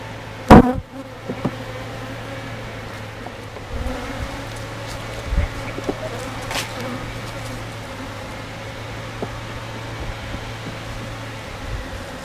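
Honeybees buzz around a winter beehive on a farm, a faint, steady hum with a low drone beneath, broken by a sharp knock near the start and a few small clicks.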